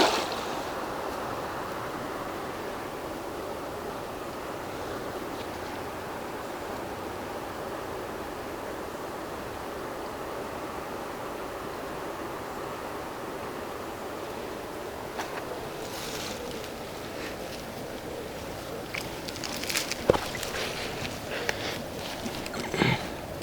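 Fast-flowing river water running high after recent rises rushes in a steady, dense wash, with a few sharper splashes and clicks near the end.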